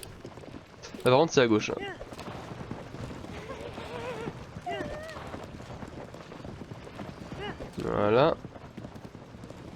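Horse hooves clip-clop at a walking pace in the video game Zelda Tears of the Kingdom, a steady run of light steps heard throughout while someone talks over them in French.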